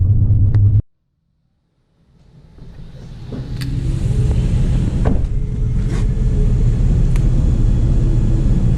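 A car starts off after a refuelling stop on a rainy morning and pulls out onto the highway. After a short silence, steady engine and road rumble build up and hold loud and close, with a few faint clicks and knocks.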